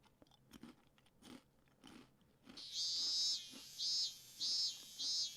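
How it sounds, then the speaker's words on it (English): Cicadas in a summer scene from the visual novel Nurse Love Addiction: a loud, high buzzing drone pulses in four long bursts, following a few soft crunchy taps. "Cicadas!"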